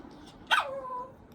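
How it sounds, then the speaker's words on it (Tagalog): A dog gives a single sharp bark that trails into a short whine, loud and fairly close, alone in a quiet room. "haririnig niyo yan, aso na yan"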